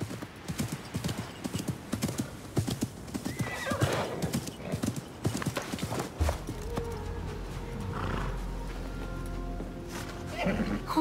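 Hooves clip-clop in quick rhythm as a horse runs in the video game Assassin's Creed Mirage, followed by a clear, drawn-out neigh, with game voices and sounds mixed around it.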